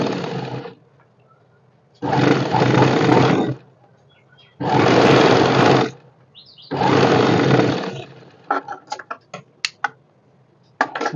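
A sewing machine stitches piping onto a blouse sleeve in loud, even bursts of about a second and a half each, four runs separated by quiet pauses, followed by a scatter of sharp clicks and taps.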